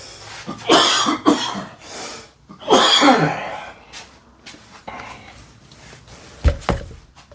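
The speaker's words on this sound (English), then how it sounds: "I got a little coughing fit" Several harsh coughs burst out close by in a short fit, followed by quieter breathing and a dull thunk.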